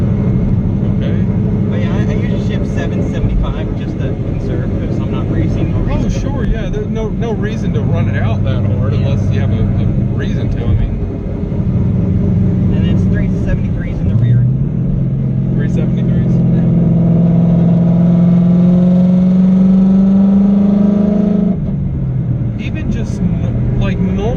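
A 2011 Ford Mustang with a Coyote V8 revs high from inside the cabin, the engine note climbing and holding in long sweeps with a deep steady rumble beneath, while people talk over it.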